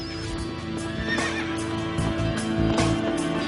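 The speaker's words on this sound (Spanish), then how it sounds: "por la costa merodea una manada de caballos salvajes" Wild horses on the coast, with repeated loud neighs and whinnies over a steady background bed, joined by a few clip-clopping hoof sounds.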